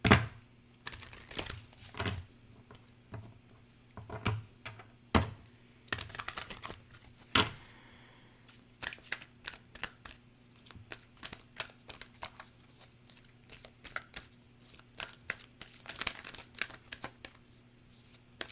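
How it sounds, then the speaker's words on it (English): Keepers of the Light oracle cards being shuffled and pulled from the deck, a run of crisp, irregular riffling and flicking bursts with short pauses between them, close and fairly quiet over a steady low hum. "let me pull a few oracle cards. This is Keepers of the Light."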